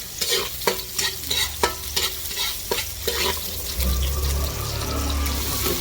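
Garlic sautéing and being stirred in a pan while cooking ginisang malunggay with kamote, a steady close sizzle with repeated scraping stir strokes over running water.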